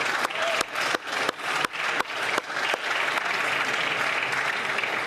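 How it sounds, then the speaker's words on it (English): Applause in the Canadian House of Commons, opening with sharp desk-thumping beats from members before settling into steady, loud clapping across the chamber. "let us offer the Haitian community all our respect and applause"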